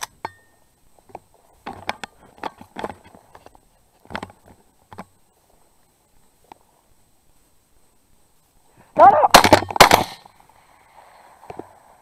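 Shotgun fire during a quail hunt in open fields, several sharp cracks early on, then a loud close blast with a second shot right behind it, separated by quiet stretches.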